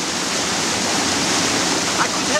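A river and waterfall rush steadily, a loud, dense wash of flowing water filling the whole scene without pause.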